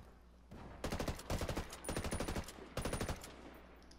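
Rapid bursts of automatic gunfire from the video game Ghost Recon, in player-versus-player play, rattle loudly in several sharp volleys, separated by brief pauses.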